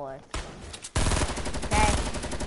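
Loud bursts of rapid gunfire in a shooter video game, sharp and close, arriving in two sudden bursts after a short tonal sound.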